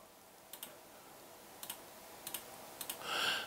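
Keystrokes on a computer keyboard as a password is entered during a recorder setup: four brief pairs of quiet clicks spaced about a second apart, close and alone, followed by a short hiss.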